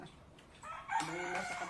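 A rooster crows once, a loud, clear cock-a-doodle-doo rising above faint background noise, with no talking.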